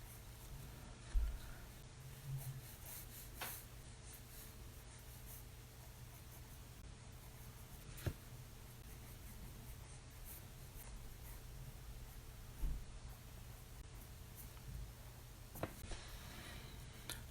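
Pencil shading on paper with the flattened side of the lead, a soft continuous scratchy hiss with faint strokes and a few light taps, steady and close throughout.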